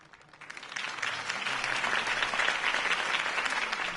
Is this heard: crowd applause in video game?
yes